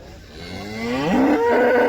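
A single bovine lows at a livestock market near Uzynagash, Almaty, a long, loud, close moo that rises in pitch and swells toward the end, with faint market noise behind it.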